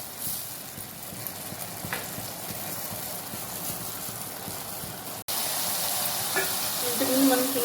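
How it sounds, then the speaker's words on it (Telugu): Mushroom curry simmering in a pan as its water cooks down, giving a steady, soft sizzling hiss with faint bubbling throughout, close by, with a brief dropout near the end. "వాటర్ కొంచెం దగ్గర పోయే వరకు ఉడికి చేస్తున్నాను."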